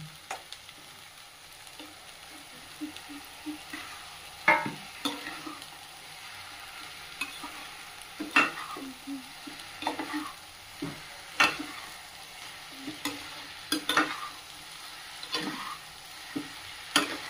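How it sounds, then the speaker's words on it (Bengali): Fish going into a spiced curry base in a pan, frying with a low steady sizzle while a utensil scrapes and stirs in irregular knocks, moderately near, no talk. "দেখুন ঝোলটা মশলা কষে এসছে, মাছগুলো এবার দিয়ে দেবো।"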